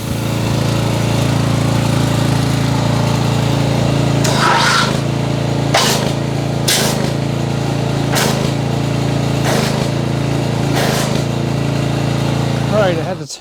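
A pressure washer motor drones steadily and loudly while feeding a foam cannon during a car wash, broken by several short sharp bursts and bumps, with wind noise in the background.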